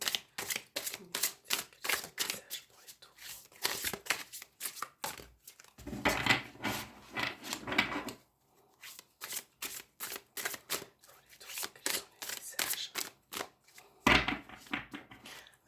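Tarot cards being shuffled by hand, a close, rapid run of crisp riffling bursts in quick repeated clusters with brief pauses between them, no talk.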